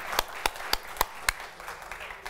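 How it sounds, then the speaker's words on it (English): An audience at a literary reading claps, five or six distinct sharp claps spaced evenly before fading into scattered lighter applause, with no voices. "Let's give that a round of applause."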